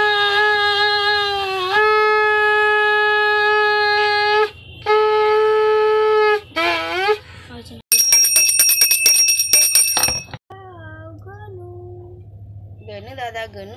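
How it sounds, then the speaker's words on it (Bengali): A conch shell blows long sustained tones in several bursts during a Raksha Bandhan celebration at home, followed by a rapid bright ringing of a bell, with people talking around it. "বাজা একটু শাঁখ ঘন্টাটা"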